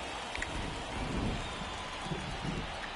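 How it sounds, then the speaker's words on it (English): Rain falls steadily in a baseball video game, MLB The Show, as a soft, even hiss of downpour with faint spatters throughout, quiet and unbroken. "This rain is not letting up."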